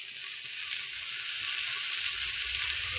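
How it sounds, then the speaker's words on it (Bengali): Coconut frying in a pan makes a close, steady sizzle, a continuous hiss with soft low rumbling and no talking. "তো এটাকে দিয়ে আমি একটু ভাজতে থাকবো ফ্লেভার আসা পর্যন্ত।"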